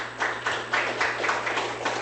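Applause from an audience at a small gathering where self-employed business owners are introduced, steady clapping that swells in several waves over roughly two seconds, moderately close, with no talk over it.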